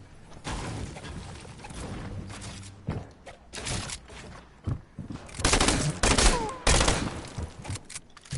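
Rapid bursts of gunfire from a video game, sharp repeated shots and automatic fire in uneven clusters, fairly loud, with voices talking in between.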